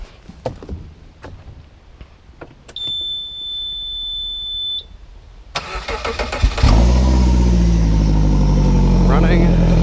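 A Suzuki 70 hp four-stroke outboard motor cranks over and fires into a loud, steady run after a beeping alarm tone, close by, with people talking at points throughout.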